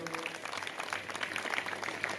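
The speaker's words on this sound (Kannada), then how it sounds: "ಅವನಿಗೂ ಜೋರು ಚಪ್ಪಾಳೆ ತಟ್ರಿ" Audience applause at a community awareness gathering in Mutturu, a short burst of many hands clapping in a steady patter, moderately loud and without talk.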